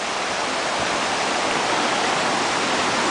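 Rushing river water from a swollen stream near a kids' fishing pond in Boulder, Colorado roars as a dense, steady broadband wash, loud and close with no talk.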